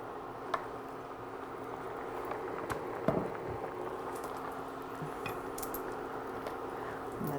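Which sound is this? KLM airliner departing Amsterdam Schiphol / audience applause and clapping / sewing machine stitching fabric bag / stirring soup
stirring soup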